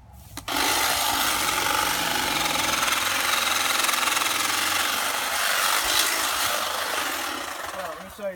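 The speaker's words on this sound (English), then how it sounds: "We got a hedge trimmer here, Kobalt 40 volt max. Look how effective this thing is." Kobalt 40 volt cordless hedge trimmer slicing through tall grass, a loud harsh buzzing rattle that starts abruptly and runs steadily, fading briefly near the end.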